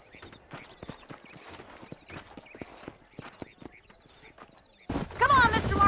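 Horses' hooves clip-clopping in a steady trotting rhythm in the Western game Red Dead Redemption, moderately close, with a voice speaking over the final second.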